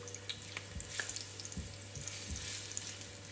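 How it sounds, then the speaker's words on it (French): Garlic cloves frying in olive oil for a shrimp spaghetti, a steady close sizzle with occasional pops and light stirring clinks, no talking. "je viens rajouter les gousses d'ail à l'huile d'olive. Et on va les faire revenir pendant plusieurs minutes"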